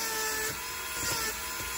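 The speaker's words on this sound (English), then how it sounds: "And they'll just put the grinder in there and let it just pull out." A grinder works on a wooden walking stick, a steady high whining hum with faint scraping pulses from the wood, close and unbroken, with no voices.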